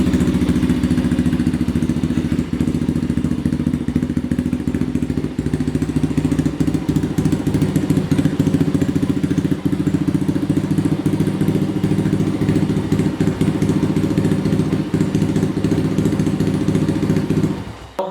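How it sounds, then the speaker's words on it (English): A Thumpstar TSR140 dirt bike engine idles steadily and close by, a loud, even single-cylinder putter with light mechanical clatter that holds for the whole stretch before cutting out at the very end. "I normally let it idle for maybe 30-40 seconds and shut it down"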